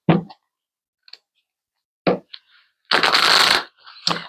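Tarot cards are handled close up, with a few sharp flicks and taps followed by a brief riffling shuffle burst and a final snap.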